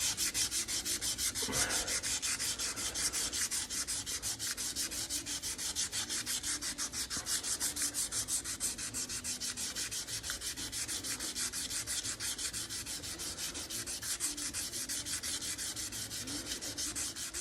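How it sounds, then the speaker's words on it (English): Hand sanding an aluminum cover on a Yamaha XS650 chopper with folded sandpaper, a steady, close, fairly quiet scratchy rubbing in quick repeated strokes that continues for the whole stretch without talk. "I just take it, fold it like that,"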